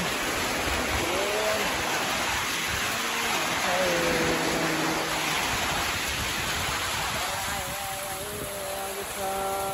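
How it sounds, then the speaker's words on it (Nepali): Rain falls steadily in a dense, even hiss that fills the whole stretch while someone talks over it. "पानी फेरि परिरहेको छ"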